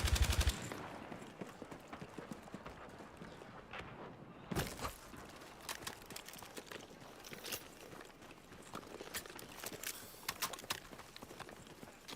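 Sniper rifle gunfire in a video game gives off sharp, scattered cracks, one strong shot near the start and further irregular reports spread over a low background rumble.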